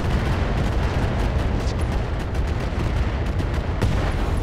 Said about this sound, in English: Hopefully those were rockets.